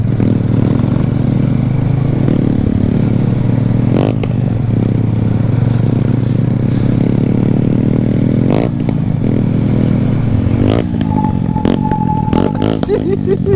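A motorcycle engine runs loud and close on a Jamaican road ride, rumbling steadily with repeated revs and sharp popping backfires toward the end, and no talk over it.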